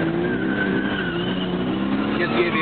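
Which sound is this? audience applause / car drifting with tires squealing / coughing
car drifting with tires squealing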